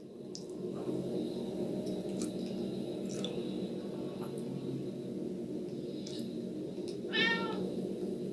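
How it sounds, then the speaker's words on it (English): A cat meows twice in the video game Tokyo Dark Remembrance, a soft call early on and a clearer, louder meow near the end, over a steady low game ambience. "Cat acquired."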